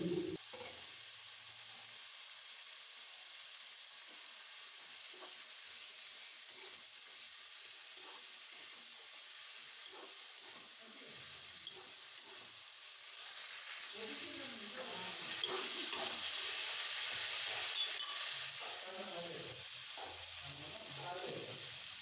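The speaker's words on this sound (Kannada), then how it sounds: "ಇವು ಬೇಯಿಸಿರೋ ಗೌರಿಕಾಯಿ ಮತ್ತು ತೊಂಡೆಕಾಯಿ ಎರಡನ್ನೂ ಫ್ರೈ ಮಾಡಿ" Boiled cluster beans and ivy gourd fry in a pan with a soft, steady sizzle that grows louder and hissier partway through, with occasional stirring scrapes.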